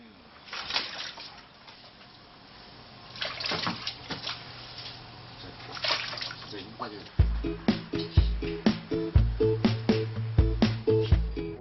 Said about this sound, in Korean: 이렇게 한번 삶아낸 머릿고기는 찬물에 약 10분 정도 식혀냅니다.